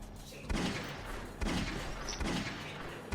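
Gunfire in an Ottoman-era shooter video game comes as repeated heavy bursts of shots and booms at roughly one-second intervals over a dense, loud rumble of battle, with no clear talking.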